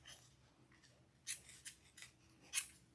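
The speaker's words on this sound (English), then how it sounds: "I will just snip off all these longer pieces" Sharp scissor snips trimming off longer pieces from a no-sew candy corn gnome wreath attachment, four or five quick close cuts spaced irregularly over quiet, the last one loudest.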